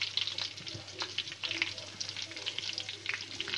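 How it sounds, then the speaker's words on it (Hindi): Ginger garlic paste and cumin frying in a pan for beef white korma, a soft, steady sizzle with occasional stirring, quiet and close. "इनको हल्का सा मैं भून लूँगी"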